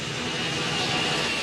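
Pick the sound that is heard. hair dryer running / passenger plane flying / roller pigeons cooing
passenger plane flying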